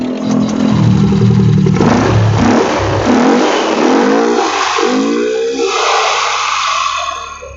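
A Yamaha Fego scooter engine starts up close and loud, then revs repeatedly in rising and falling surges before easing back toward idle.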